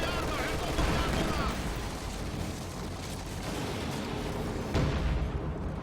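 Heavy battlefield din in Company of Heroes 2, with B4 howitzer artillery and gunfire roaring as a dense, continuous rumble, with sharper blasts near the start and the end.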